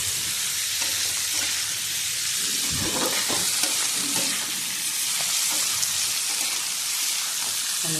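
Paneer stirred into spiced potatoes frying in a pan, giving a steady loud sizzle with scraping and clinking of the spoon throughout, close up and without speech.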